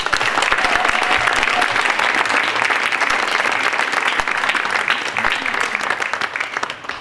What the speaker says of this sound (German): Und da darf jetzt mal gebündelt für Rita Reinl, den Bewegten Wind, die Sportfreunde Immichhausen und die Landfrauen geklatscht werden.